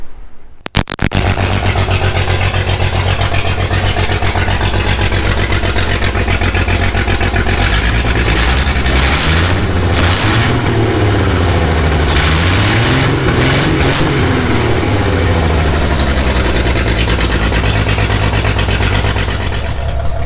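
A Jeep YJ engine idles after starting, a steady low rumble that climbs in a few revs and settles back, loud and close with no talking.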